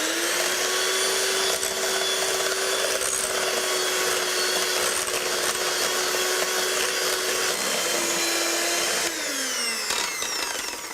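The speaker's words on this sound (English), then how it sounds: "And then we're going to just whisk that so it gets sort of really creamy consistency." Sugar and egg yolks are whisked into a creamy base for chocolate and almond cookie dough, giving a steady, loud whirring drone that continues for about nine seconds before its pitch drops and it changes near the end.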